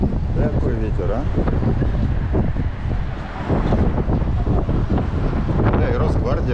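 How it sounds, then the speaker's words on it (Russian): Strong wind gusting in the Moscow city business district, roaring steadily and buffeting close to the microphone as a loud, rumbling wash, with people talking over it. "Какой ветер, а?"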